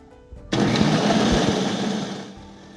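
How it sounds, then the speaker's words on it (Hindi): A mixer grinder kicks on and runs steadily, grinding green chutney with tamarind; a loud continuous whirring motor drone with no talk, easing slightly toward the end. "इसके बाद इसको थोड़ा सा पीसना स्टार्ट करेंगे।"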